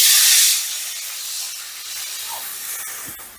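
Water poured into a hot, oiled kadai in a home kitchen gives a loud burst of steam hiss at first, then it fades to a softer, lingering sizzle with faint clinks.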